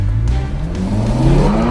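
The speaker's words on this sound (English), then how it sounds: "Rev the car." A Ferrari 458 sits in launch mode as its engine revs loud and close, the pitch climbing steadily in one continuous rising wail.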